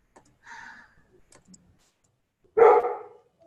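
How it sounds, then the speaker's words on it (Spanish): A small dog gives one loud, close bark near the end, after a stretch of faint voice-like murmurs and near silence. "¿El perrito es tuyo, Marce?"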